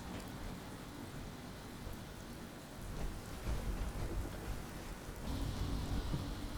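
Rain falls at night in the Fallout 76 video game world, a soft constant patter with low rumbling swells, growing a little heavier in the later seconds, no voices present.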